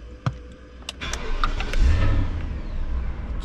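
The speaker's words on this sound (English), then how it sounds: "remember, you need to start up the car" A BMW E38/E39 engine cranks and starts nearby after a few clicks and key sounds, settling into a low steady idle, no talk.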